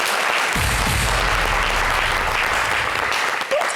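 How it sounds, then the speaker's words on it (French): Audience applause on a broadcast show, a dense, continuous wash of clapping from a crowd at steady volume, with a low rumble beneath it. "on les applaudit"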